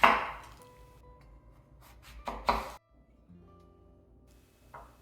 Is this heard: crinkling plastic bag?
no